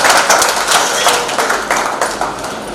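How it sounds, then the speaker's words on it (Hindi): Audience applause at a Teachers' Day school celebration, a steady, dense wash of many hands clapping close by for about three seconds, with faint voices mixed in. "आज सब लोग से तालियां बजवाने का जोरदार होनी चाहिए"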